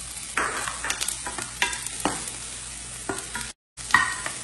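Mushrooms added to a pan with onions and salt, sizzling softly while a utensil scrapes and stirs in several separate strokes, with a brief silent gap near the end.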